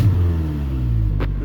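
A boosted Nissan D21 Hardbody engine revs loud and close, a steady low droning rumble with a brief sharp hiss near the end.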